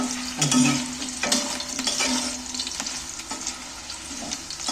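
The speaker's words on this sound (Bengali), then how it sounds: "আলুগুলোকে তেলের মধ্যে নাড়াচাড়া করে ভেজে তুলে নিন" Potatoes stirred and fried in hot oil give a steady close sizzle, with scraping stirs and bubbling bursts that stay continuous and fairly loud throughout.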